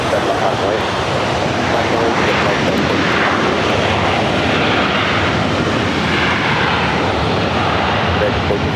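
A jet taking off from runway 7 left at LAX in challenging weather gives a loud, steady engine roar that holds broadband and unbroken throughout, with a voice speaking over it.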